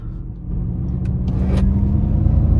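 An electric sports car of over 300 hp pulls away hard in its most aggressive drive mode, a low steady road rumble and whine building gradually over a few seconds, close and fairly loud with no talking.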